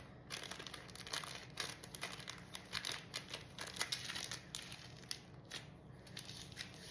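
Crinkly plastic piping bag squeezed and handled while colored batter or cream for a strawberry Swiss roll cake is pushed down, giving dense, close rustling and crackling with small sharp crinkles throughout, no talking.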